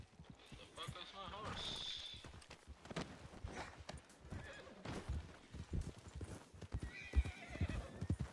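Horse hooves clop rhythmically alongside repeated neighs and whinnies, mixed with scattered footsteps and faint voices in the background, in the video game Red Dead Redemption 2 roleplay.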